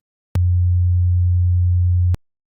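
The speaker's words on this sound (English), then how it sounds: "it made a sine wave essentially" A Pure Data oscillator on a computer produces a loud, pure, steady sine tone that starts and stops abruptly, lasting just under two seconds, alone with no other sound.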